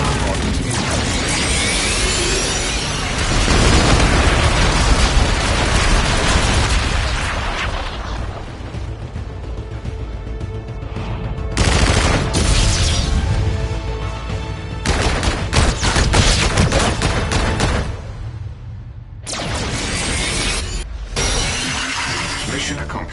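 A video-game close air support bombardment: loud, crashing explosions and shattering debris in several heavy waves separated by brief lulls, with a voice speaking in places.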